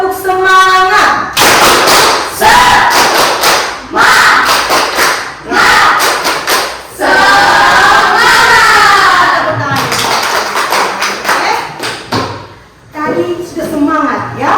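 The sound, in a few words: students doing a rhythmic spirit clapping chant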